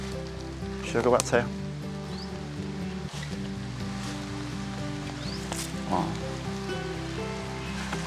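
Steady outdoor rain makes a constant broadband hiss throughout, with a person talking briefly over it early on.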